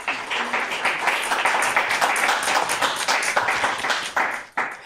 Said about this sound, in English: All right, one more round of applause for Atina,